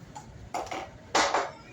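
Mixer jar handled in a home kitchen, with two short clinking knocks of metal and crockery, the second louder, close by against a quiet background.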